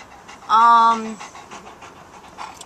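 A dog gives one loud, drawn-out yawn with a whining tone, followed by quieter, rhythmic panting nearby during a pet psychic reading.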